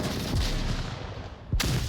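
Gunfire in the VR shooter Onward during a team match at a LAN event, with sharp, loud shot bursts at the start and again near the end over a steady din of battle ambience.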